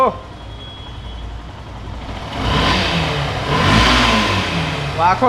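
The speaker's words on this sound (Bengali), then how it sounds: "এটাও স্টার্ট দেন, আজকে সব স্টার্ট দিয়ে দেখা দিব।" A used 2019-model motorcycle at a second-hand bike market is started and revved. The engine idles, then rises in a loud, close rev and falls back, with people talking nearby.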